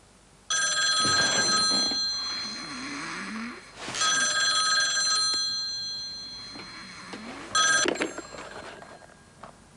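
A Swisscom Pronto 210 cordless phone rings in a 1998 Swiss TV commercial, with several loud bursts of electronic trilling separated by brief pauses and no talking.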